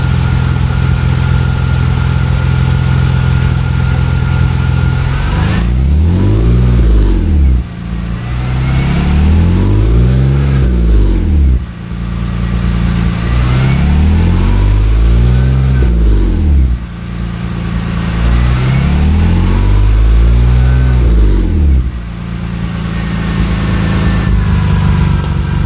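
A BMW E46 330i with a Magnaflow cat-back exhaust revs to about 2,500 RPM repeatedly, four or five rising and falling bursts over a steady idle, loud and close.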